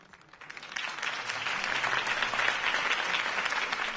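A crowd applauds steadily, the clapping swelling from a few hands to a full, dense round that continues to the end.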